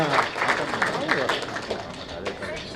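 Scattered clapping from an audience at a film trailer launch event runs throughout, mixed with a voice speaking over it.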